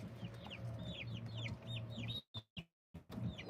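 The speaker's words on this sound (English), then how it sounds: "Chicks and chickens here." Homestead chicks and chickens, including a silkie, chirp in rising peeps over low, steady hen clucking, close and busy, before a few sharp pauses break the sound near the end.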